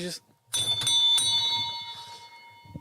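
A pub bell rings last orders with bright, sustained metallic tones that slowly fade, alongside low rumbling voices and background bustle.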